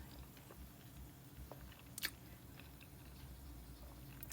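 Close-up chewing of eggs and rice with bacon, quiet soft bites and mastication with a couple of small crunches, heard alone at low level.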